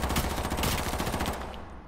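Dense, continuous rapid gunfire in the H1Z1 Battle Royale video game, a sustained loud burst of overlapping shots that eases off slightly toward the end, with no talk.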